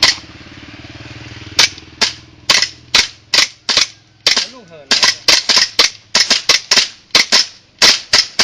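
KSC Glock 18C BB gun firing outdoors, a string of sharp, close, snapping shots at an uneven pace, some spaced apart and others in quick clusters, after a low engine-like hum at the start.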